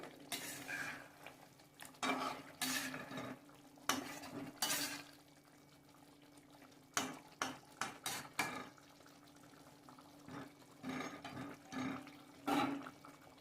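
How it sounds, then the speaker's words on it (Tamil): Dried salted fish curry stirred in a pot with a spoon, giving a series of separate scraping, clinking strokes in bursts with short pauses between them. No voices. "இந்த ஸ்டேஜில் நம்ம கொஞ்சம் லைட்டாக கிண்டி விட்டுக்குவோம்"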